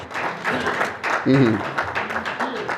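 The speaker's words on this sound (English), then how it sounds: "Can we clap again for the Ichie?" Applause for a speaker at a Nigerian ceremony honoring an Ichie, steady crowd clapping running throughout with voices talking over it.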